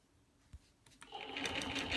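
A sewing machine stitching a wavy quilt border starts up after a quiet moment with a couple of faint clicks, then runs at a steady, whirring, rhythmic pace that grows louder.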